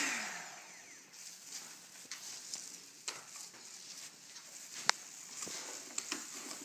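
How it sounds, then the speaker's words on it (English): An old-fashioned hand mixer churns sodium silicate sand in a bowl for metal casting, giving faint, scratchy stirring and gritty patter with scattered sharp clicks, quiet and close, with no voices. "Use an old-fashioned mixer to mix it all up."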